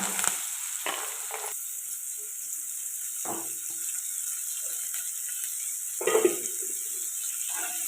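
Onions and curry leaves frying in oil make a continuous bright sizzle, broken by a few scraping stirs of a utensil against the pan, with no voices.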